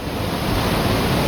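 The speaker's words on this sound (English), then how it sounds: "Isaac Falls. Just a mass of white water." Isaac Falls, a waterfall of churning white water below rapids on the Bowron Lakes kayak route, gives off a steady, loud, close roar of rushing water that continues unbroken with no voices.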